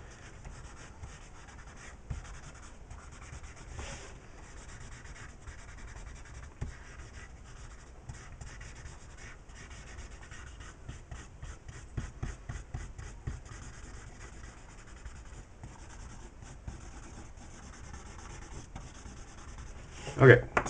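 A paper blending stump rubs over pencil lines on drawing paper, giving a soft, steady scratchy whisper with repeated short strokes and a brief louder scuff near the end; no one speaks.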